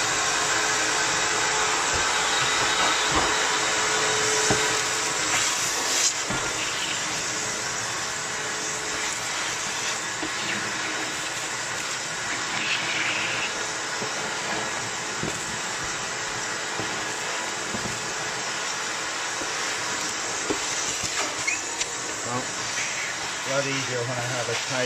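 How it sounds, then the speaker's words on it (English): A vacuum cleaner runs continuously while sucking up debris from a Boru inset stove during a stove rope change, a loud close whooshing hiss with rattling pickups and brief knocks. "So I just vacuum up this stuff."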